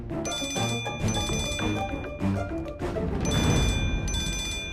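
A phone rings with a call from a new number in a Tamil TV serial, a loud electronic ringtone in repeating bursts over a bed of background music, with no talking.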